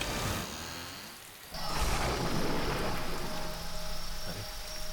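Heavy rain pours down steadily with the rumble of thunder, growing into a louder, fuller downpour after a softer opening, with no voices.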